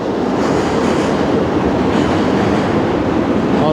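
A passing train gives a loud, continuous rumble with rolling wheel clatter on the rails, steady and close throughout with no voices.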